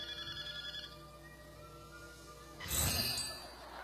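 A telephone rings during a Philippine noontime variety show comedy segment, a bright electronic ring that swells up loudly near the end over a quiet room tone.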